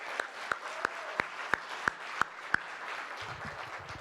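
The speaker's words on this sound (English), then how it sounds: "Give a round of applause for MVP right now" Eight sharp, evenly spaced claps ring out at a poetry event, each a single crisp hit about a third of a second apart, fairly quiet over a soft room background.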